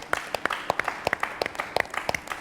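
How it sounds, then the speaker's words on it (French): A small group claps for contestants on a French cooking competition show, sharp distinct hand claps in a quick, slightly uneven rhythm, close by and clear, with no talking. "je les applaudis"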